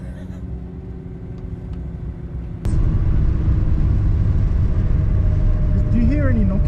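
A Nissan R35 GTR at a roll racing test and tune, with steady engine noise that jumps abruptly into a loud, sustained roar, and a rising pitch sweep near the end.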